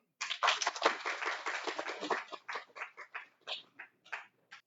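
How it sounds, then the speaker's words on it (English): Small audience applause welcoming a professor to a conference session, a short burst of clapping that thins into a few scattered, separate claps before stopping. "That's a big applause."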